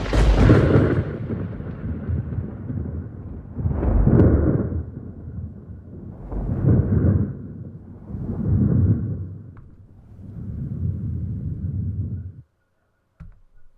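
A thunder-and-lightning sound effect: an initial sharp crack followed by four or five deep, rolling booms that swell and fade over about twelve seconds, loud and heavy, then an abrupt drop to near silence.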